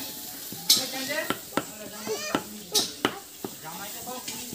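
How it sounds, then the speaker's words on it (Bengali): Potatoes frying in oil in a kadai, a soft continuous sizzle broken by scraping stirs and light clinks of a utensil, with sounds of an outdoor picnic cooking setup around it. "আর এখানে কড়াইতে তেল দিয়ে আলুটা ভাজা হলে তুলে নেওয়া হবে।"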